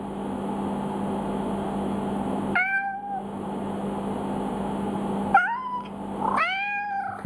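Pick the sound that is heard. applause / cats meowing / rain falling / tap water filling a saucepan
cats meowing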